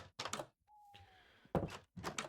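A door thuds heavily in a row of dull, low knocking impacts, loud and close, with a brief tonal whine between them and no talking.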